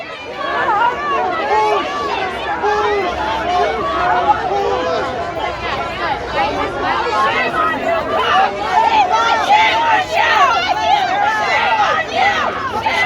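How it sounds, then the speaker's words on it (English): A dense crowd gathered outside Adamson's BBQ as mounted police move in, a steady roar of many voices with rhythmic chanting rising through the babble, loud and continuous. "Some chanting has begun."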